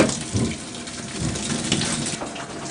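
Water from a tap gushes steadily while maple syrup buckets are washed indoors, a loud continuous splashing rush with small fluctuations and no talk.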